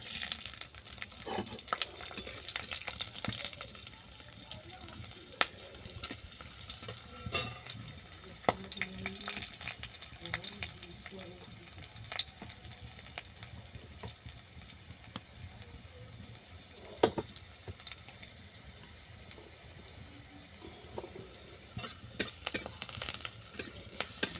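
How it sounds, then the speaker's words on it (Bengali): Garlic fries in oil for a rustic, village-style bathua greens mash, giving a continuous crackling sizzle dotted with sharp clicks and clatters from stirring, with no talking. "এই তেলের মধ্যে দিয়ে দিচ্ছি রসুন"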